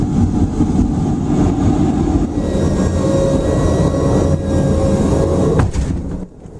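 Steady, loud engine drone from a naval aircraft flying from a San Diego base out to the aircraft carrier USS Carl Vinson, a continuous low roar with a faint tonal whine that fades slightly at the very end.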